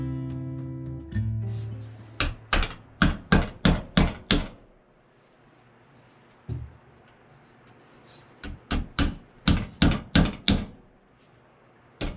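A hammer drives finish nails into white oak in quick bursts of sharp, close strikes, with a lone blow between two volleys of about seven hits each. A voice speaks briefly before the first volley.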